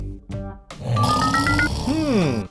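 Cartoon snoring sound effect for a snoring planet Earth: a loud rumbling grunt-like snore with a rising whistling tone, followed by a swooping exhale, comic and exaggerated.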